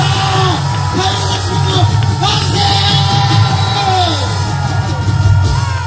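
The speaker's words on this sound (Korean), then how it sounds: "앞장서는 청년 이 대원의 학생에게 뜨거운 박수 부탁드리겠습니다" A crowd at an outdoor Korean prayer rally cheers and yells for a young speaker, loud and continuous whoops and shouts with a steady roar underneath throughout.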